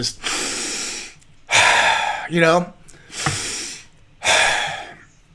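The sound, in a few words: forceful deep breath in through nose, out through mouth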